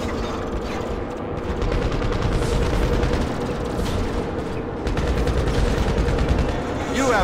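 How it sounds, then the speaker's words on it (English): Constant rapid gunfire while shooting aliens in GTA 5 Online, a dense, loud and continuous rattle of shots over a crowded game soundscape. "Let's shoot some extraterrestrials!"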